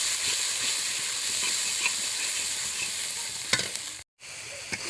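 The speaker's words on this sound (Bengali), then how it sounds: "একসঙ্গে মশলাটা কষিয়ে নেব।" Chilli, coriander and Kashmiri chilli powder masala fries in oil for a silver carp fish curry, a loud continuous steamy sizzle with scraping stirs and a brief dropout near the end.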